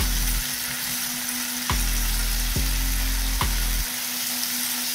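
Chilli mushrooms fry loudly in a pan, a steady close sizzle broken by three sharp scraping strokes of stirring, with vinegar going in partway through.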